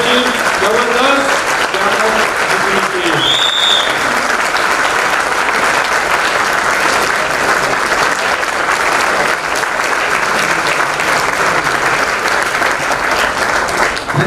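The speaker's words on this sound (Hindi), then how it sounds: "और तालियों का आवाज, आपकी एनर्जी जबरदस्त।" An audience at a seminar applauds loudly and steadily, a dense close wash of clapping that runs throughout, with a voice speaking briefly at the start.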